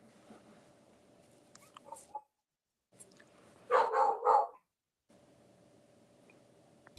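A dog barks twice in quick succession at a moderate distance, with quiet room noise and gaps of near silence around it.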